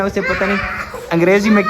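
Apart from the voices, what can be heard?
None of the usual background noises is heard.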